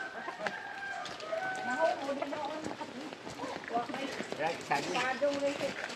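Chickens cluck and call repeatedly nearby on a farm while people talk over them, with an outdoor background.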